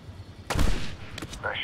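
A sniper rifle fires in the video game Medal of Honor 2010: a sharp, loud crack with a booming tail, then a second fainter report, followed by a short mechanical sound.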